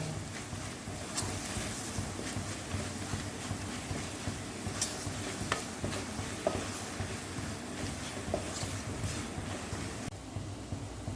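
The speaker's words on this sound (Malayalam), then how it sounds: "ഇതെല്ലാം നല്ല പോലെ ഒന്ന് അതിൻ്റെ റോ സ്മെല്ലൊക്കെ ഒന്ന് മാറി മൂത്ത് വരട്ടെ കേട്ടോ." Garam masala and ground spice powders fry in a pan for a home-style curry, giving a steady close sizzle with scraping stir strokes and occasional clicks of a utensil, continuous throughout with no talking.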